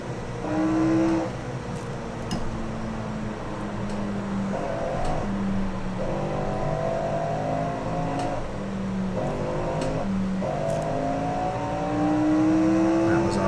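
Race car engine in the Assetto Corsa racing game at Monza 1966, revving with stepped pitch rises and drops as gears shift and downshift, steady and prominent throughout, with a voice talking over it.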